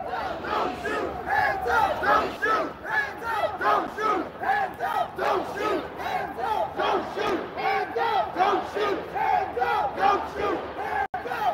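A large, diverse protest crowd of all ages shouts and chants in rhythmic waves, voices surging and falling repeatedly, loud and continuous throughout.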